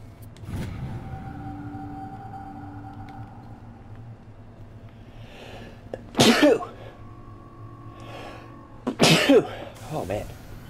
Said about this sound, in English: I think there's another sneeze coming.